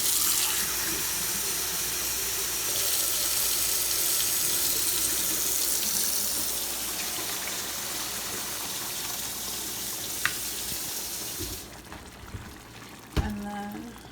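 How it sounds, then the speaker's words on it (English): Two cups of water are poured in while cooking, a loud continuous gushing rush that runs for about eleven seconds, then cuts off, followed by a couple of sharp clanks and quieter kitchen handling. "So now I'm gonna add 2 cups of water."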